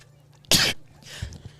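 A single sharp, loud sneeze bursts out nearby against a quiet background at a high school baseball alumni game, followed by faint noises.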